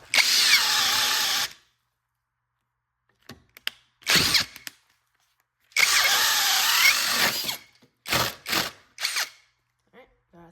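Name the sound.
Mellif cordless drill boring 1 1/8 inch hole, stalling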